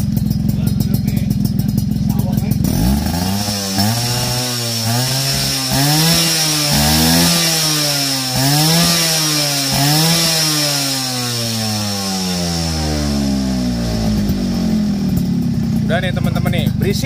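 A Suzuki Tornado motorcycle with a stainless racing exhaust revs hard again and again, its loud exhaust rising and falling in pitch through repeated throttle blips.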